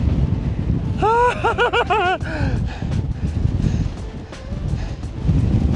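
Strong, cold wind on a high-elevation mountain pass roars and buffets the microphone in a continuous low rumble, with a brief burst of high, warbling whistles near the start.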